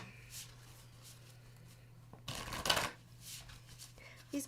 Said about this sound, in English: These cards shuffle really, really well